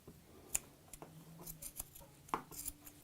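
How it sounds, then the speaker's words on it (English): Regular scissors snip through macrame cord fringe in soft, irregular clicks and crisp cuts, close and fairly quiet, with no talking. "So I'm going to start by using just my regular scissors"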